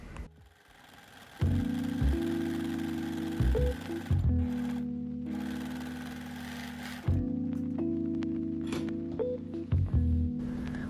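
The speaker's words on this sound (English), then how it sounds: "After ironing, sew the lock stitch on the hem." A sewing machine sews a lock stitch on a hem, starting and stopping in a few steady runs, its motor humming and needle chattering at close range, with short pauses between runs.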